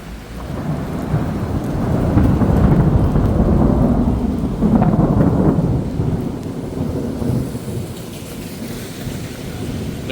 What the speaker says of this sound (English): There's your thunder.